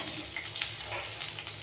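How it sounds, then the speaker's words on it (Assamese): Capsicum chicken pakoras fry in a pan as they are flipped, giving a brief, steady close-up sizzle with no talking. "পকোৰাকেইটা ওলটাই দিম"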